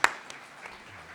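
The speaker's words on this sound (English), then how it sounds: "A big round of applause." Brief applause from an audience at a civic event on building attainable housing, with a sharp clap burst at the start that quickly thins into a light, scattered patter.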